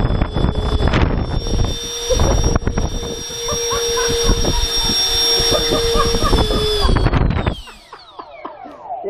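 A model Taljet jet aircraft engine on its first run-up screams with a loud, steady high-pitched whine that holds for several seconds, then spools down and fades near the end.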